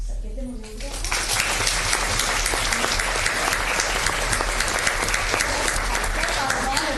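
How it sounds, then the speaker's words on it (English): An audience at a county commissioners court meeting breaks into a sustained round of applause, dense clapping rising after a quiet start and continuing steadily throughout. "So give them a round of applause."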